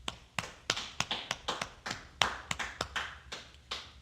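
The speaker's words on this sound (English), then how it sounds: "Clap it up." Hands clap in a steady rhythmic series of about fourteen sharp claps over four seconds, close and moderately loud with nothing else over them, at a gathering of the Israelite School of Universal Practical Knowledge in Harlem, New York.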